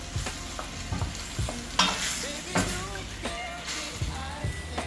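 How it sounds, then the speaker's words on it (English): Coconut milk being stirred into steamed fish in a pot, close scraping and clanking spoon strokes over a light bubbling simmer, with some quiet background sounds. "We're going to give it a stir"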